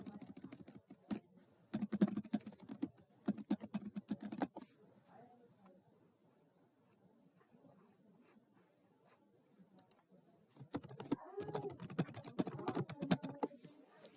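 Typing on a computer keyboard to enter a library database search, rapid clicking bursts with a quiet pause in the middle before more fast, close keystrokes.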